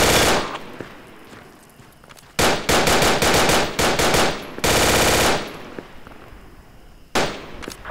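In Project Reality on the Battle of Ia Drang map, a grenade launcher fires straight up amid bursts of loud automatic gunfire. Dense rapid volleys come in separate blocks with short gaps between them, and a sharp report follows near the end.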